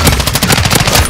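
Rapid automatic gunfire from Call of Duty: Modern Warfare II, a loud, continuous burst of closely spaced shots with no pauses across the whole moment.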